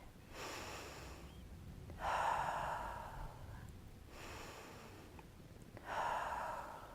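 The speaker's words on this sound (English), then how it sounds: "So I'm going to breathe really deeply" Slow deep breaths taken while standing in meditation, close and soft, with long drawn inhales and exhales in a steady rhythm, three or four breath cycles and no talk.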